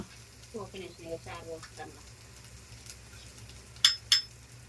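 Tempering for a fish curry sizzling in a pan, a quiet crackle under brief murmured voice early on, then two sharp metallic clinks near the end.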